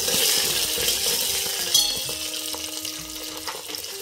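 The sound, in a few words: buttermilk chillies frying in oil for rice upma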